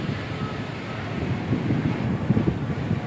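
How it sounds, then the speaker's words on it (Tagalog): Strong wind roaring and buffeting the microphone outdoors among rustling leaves, a steady low rumble with gusts growing louder toward the end. "Ang lakas nung hangin masyado."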